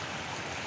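Steady rushing of rainwater and floodwater flowing along a village road beside flooded fields during autumn monsoon downpour in Nepal, a dense continuous wash heard close and loud with no talk.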